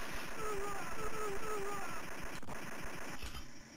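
Rapid machine gun fire from a Taito arcade shooting game, played on a Legends Gamer Pro arcade cabinet, crackles steadily beneath a droning electronic hum and melodic chiptune tones throughout.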